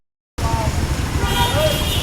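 Road traffic stuck in a jam near Rampura, with car horns sounding over the steady engine rumble of nearby vehicles while a voice talks over it.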